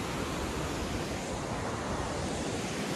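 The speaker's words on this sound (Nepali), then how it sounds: "यो चाहिँ हाम्रो गट्टा खोला" Dense, unbroken rushing of the Gatta Khola river flowing beneath a village footbridge in Nepal, a loud close wash of water with a windy, hissing texture and no talking.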